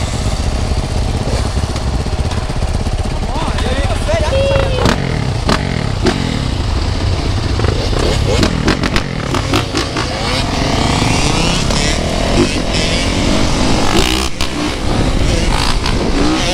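A 450cc motorcycle rides on city streets with a loud, continuous engine roar heard up close and some rattling clatter, without letup throughout.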